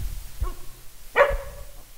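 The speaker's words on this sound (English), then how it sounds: "next time I want you to bark louder" Dog giving two short barks, the second louder and sharper, close by in a quiet room.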